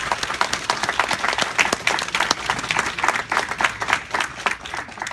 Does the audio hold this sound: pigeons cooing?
no